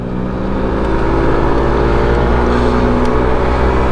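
A SYM 125cc motorbike at full throttle while overtaking on the road: continuous loud, close engine drone with steady low harmonics and wind roar, holding strong from start to finish.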